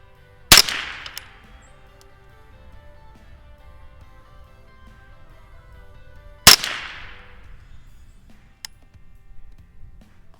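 Two sharp rifle shots from a Ruger 10/22 firing Eley .22 ammunition at a 50-yard target, spaced about six seconds apart, each a crisp crack with a short decaying tail over quiet outdoor background.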